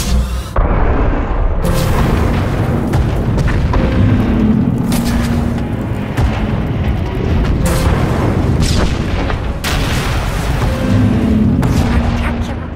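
Failsafe emitters firing in Star Wars: The Old Republic, a sequence of heavy deep booms and explosions following one another over a loud rumbling backdrop, with game dialogue speaking over parts of it.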